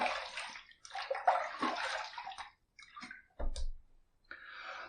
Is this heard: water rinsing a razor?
yes